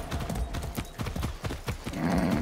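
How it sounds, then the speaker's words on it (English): Rhythmic hoofbeats of a horse galloping in the video game Far Cry 6, a fast thudding clip-clop close up with a snort or whinny near the end. "That's a good horse."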